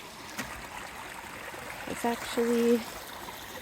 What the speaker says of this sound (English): water comes in from this side, from a lot of this side of the property